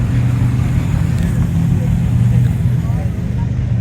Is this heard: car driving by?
yes